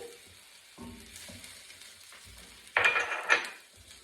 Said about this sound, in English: we're going to fry that on a lowish heat for 2 minutes